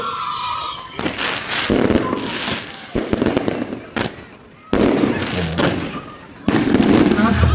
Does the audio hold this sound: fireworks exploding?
yes